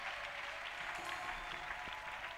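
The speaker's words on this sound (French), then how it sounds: "A clap offering to Jesus Christ." A church congregation claps as an offering to Jesus Christ during a prayer service, a soft, steady wash of clapping heard from a distance with no voices over it.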